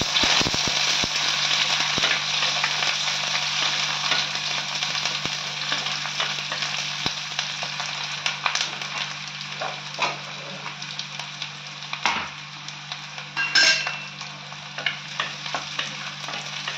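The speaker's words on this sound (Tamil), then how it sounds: "நல்லெண்ணெய் ஊற்றுறோம். கொஞ்சம் வெங்காயம், கருவேப்பிலை போட்டுருங்க. இது கொஞ்சம் வதங்கணும்." Chopped onions and curry leaves sizzle steadily in hot sesame oil for Chettinad-style chicken, a continuous close frying hiss broken by occasional scrapes and clinks of a stirring spoon.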